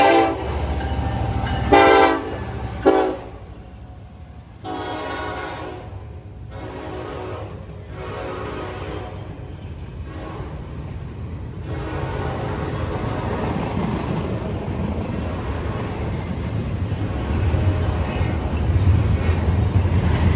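Norfolk Southern freight train 154, pulled by KCS locomotives, blasts its horn in several loud bursts, then rolls past with a steady rumble and clattering wheels that build toward the end, with no talking.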